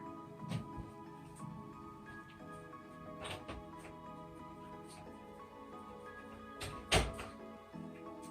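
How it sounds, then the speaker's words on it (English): A household door is opened indoors with a few sharp knocks and thuds from the handle and frame, set against a quiet room hum, and the clicks land at irregular moments. "let me open the door"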